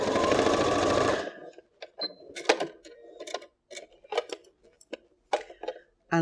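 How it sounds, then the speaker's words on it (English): A sewing machine stay stitches along the bottom edge of a fabric phone case, running loud and steady for about a second before stopping, after which faint handling clicks and rustles of fabric follow. "just stay stitch a little bit along the bottom edge"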